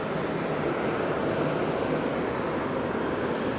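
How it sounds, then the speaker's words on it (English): A Japan Airlines A350-900 sits on pushback at Fukuoka airport, giving off a steady, even jet engine whine and hum that holds constant throughout without talk. "Japan Airlines A350-900 being pushed back in front of us"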